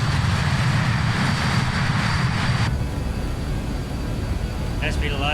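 BAe 146 jet engines spool at takeoff power in Microsoft Flight Simulator, a steady loud broadband roar that eases slightly partway through as the throttle settles, continuous throughout.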